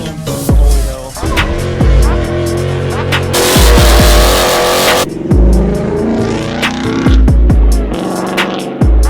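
A straight-piped Ford Mustang GT with catless headers and a Corsa Extreme cat-back does a burnout, its engine revving hard and roaring loud and near while the tires squeal and roast in long, repeated bursts.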